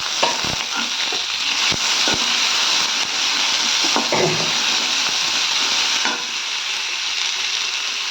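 Onions and tomatoes sauté in a pan with a constant close sizzle, punctuated by repeated clacks and scrapes of a spoon stirring against the metal.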